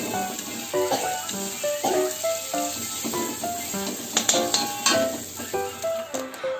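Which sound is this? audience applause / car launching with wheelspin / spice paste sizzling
spice paste sizzling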